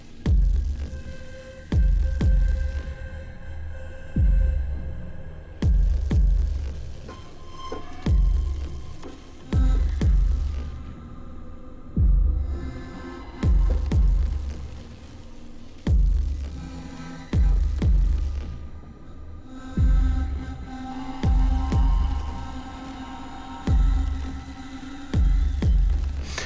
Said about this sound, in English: I was about to add in this little metal bow scrape